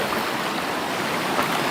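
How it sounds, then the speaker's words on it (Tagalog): Fast river water rushing through a narrow channel, a steady close roar of flowing current with no voices. "Gawa dun sa lakas ng agos ng tubig doon sa unahan."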